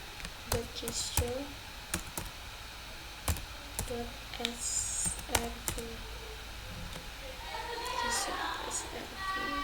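Close, sharp keystrokes on a computer keyboard as a web address is entered, irregular bursts of clicks with short pauses, while a voice talks softly under the typing.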